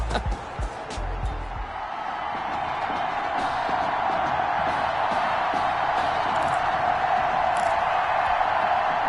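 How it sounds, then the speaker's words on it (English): A big stadium crowd in the video game Madden 21 roars and cheers continuously, a dense wash of noise after a few brief thumps at the start. "the crowd is loud and on its feet as Alan Myers gets things started."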